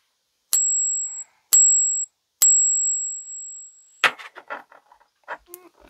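Three clear ringing pings from a Walking Liberty silver coin being tapped, each a pure high tone that decays, the last ringing longest, followed by scattered clicks and handling noise.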